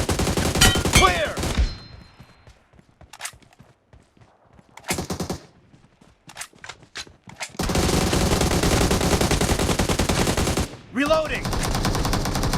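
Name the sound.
AKM and Groza gunfire in video game BGMI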